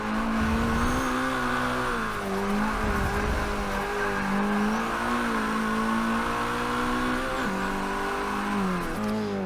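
A Mazdaspeed 3 lapping the Sonoma short race circuit, engine droning loudly and steadily from inside the car, pitch rising and falling through gear changes and corners with a few brief tire noises.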